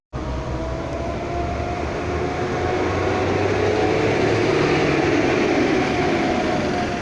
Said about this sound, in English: Sorry for the noise, guys. There's a bus behind me.